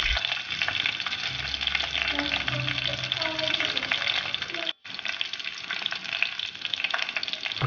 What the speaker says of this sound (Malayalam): വെളിച്ചെണ്ണ ഇപ്പോൾ നല്ലോണം ചൂടായിട്ടുണ്ട്. അതിലേക്ക് നമുക്ക് കടുക് ഇട്ട് കൊടുക്കാം.